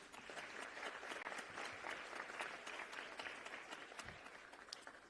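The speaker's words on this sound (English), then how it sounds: "Can you please give that a round of applause?" Audience at a youth summit breaks into sustained applause, dense clapping from a large crowd holding steady for several seconds with no voices over it.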